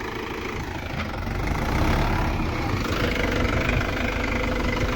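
A new Mahindra Yuvo tractor runs in medium third gear, its engine giving a steady, moderately loud mid-pitched chugging that swells a little after the first second and holds, with no talk over it.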